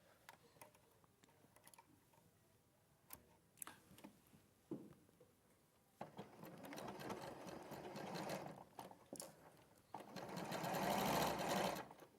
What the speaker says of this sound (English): just a couple more pins and then I'll sew that in